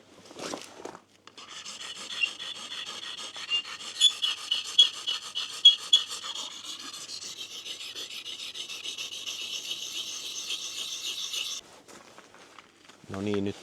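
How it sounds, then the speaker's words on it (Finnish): A wood-turning chisel is rubbed on a double-sided whetstone in steady rasping strokes for several seconds, close and fairly loud, with a brief sound at the start and end. "Niin mä pikkasen vielä terotan tätä mun talttaa, että se on varmasti mahdollisimman terävä ennen kuin aletaan sorvaamaan"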